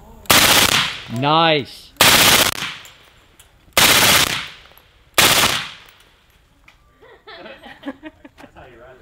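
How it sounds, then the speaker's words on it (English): Four loud bursts of automatic gunfire at a shooting meet, each a short rapid string of shots separated by pauses, with an excited voice and quiet chatter after the last burst. "Suppressive fire right there."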